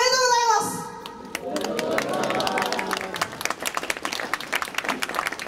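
Audience applause greeting women's pro wrestlers from OZ Academy as they enter for a New Year greeting, steady clapping and crowd noise following a brief sustained tone, with sharp individual claps standing out near the end.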